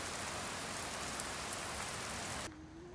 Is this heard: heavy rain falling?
yes